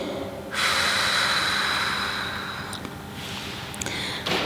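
Deep breathing during a gentle seated Pilates stretch, one long forceful exhale through the nose lasting a few seconds, then a short sharp breath near the end, close and fairly loud with no talking.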